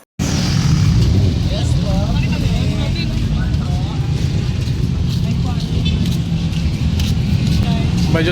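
Busy road traffic passes in San Juan, La Union: a loud, continuous rush of car and motorcycle engines, with voices murmuring faintly beneath the steady roar.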